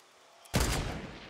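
A single heavy burst of gunfire in Fortnite cuts in suddenly after near silence, loud and close, with a short rumbling tail.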